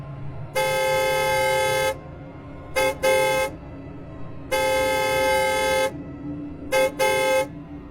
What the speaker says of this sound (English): I honked the horn.